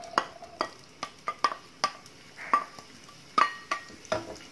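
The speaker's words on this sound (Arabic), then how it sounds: "انا ضفت المعلقتين الزيت اللي قدامكم دول من اللي في الحله اهم. هنزل بقى فيهم البصل" Onions going into hot oil in a cooking pot, a faint sizzle under a series of sharp, irregular clinks and taps of a spoon against the metal rim.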